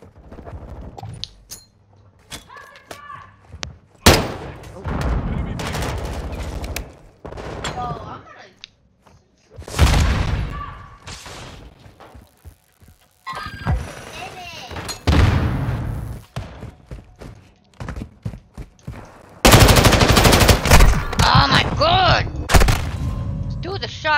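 Bursts of automatic gunfire from an Xbox shooter game come in several loud clusters separated by quieter gaps, with a voice talking over parts of the action.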